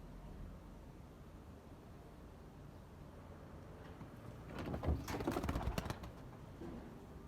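A bird, likely a pigeon or dove, makes a short burst of flutter and call sounds during a falcon attack. It rises out of steady outdoor background noise for about a second and a half, then fades.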